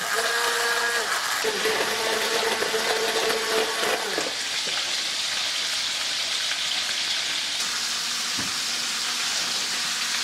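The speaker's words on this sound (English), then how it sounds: "But we got our little trusty blender." A blender whirs loudly in a steady, noisy roar that shifts in pitch partway through, with faint voices now and then.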